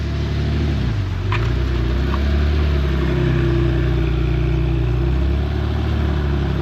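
A 1980s-era Porsche 930 with a 3.3 liter intercooled turbo engine, a steady loud low rumble of the engine running throughout, nearby and continuous, without speech.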